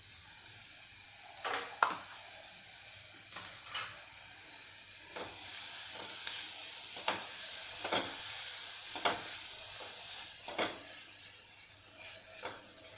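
A utensil scrapes and stirs paneer into vegetables in a kadai in repeated strokes over a steady sizzle, close by, with occasional sharper clinks.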